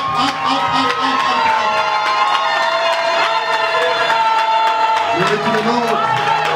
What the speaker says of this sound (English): Start shouting the shout of joy. Start clapping for God.